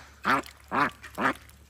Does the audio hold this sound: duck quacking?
yes